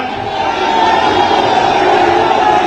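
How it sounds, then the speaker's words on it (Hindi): Large outdoor crowd at a Samajwadi Party election rally in Mirzapur roaring and cheering to welcome Akhilesh Yadav, a loud, continuous wash of voices that swells slightly after the first second. "हम चाहेंगे ताली बजाकर आप लोग स्वागत करें अपने महबूब नेता का"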